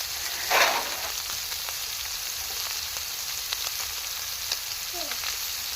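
Vegetables dropped into a hot pan with cooked chicken for a chicken vegetable soup, giving a brief burst of sizzle that settles into a steady, fairly loud frying hiss with faint spoon taps, heard up close.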